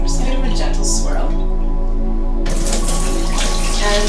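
Seeds swirled in water inside a sprouting jar, a loud sloshing, rushing wash of water that fades briefly and then returns, over a steady low hum.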